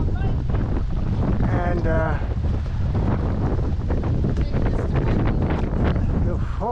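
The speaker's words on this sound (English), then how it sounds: "This is the windiest we've ever done it." Strong wind roars steadily across the microphone while canoeing down a river, loud and continuous, with people talking over it.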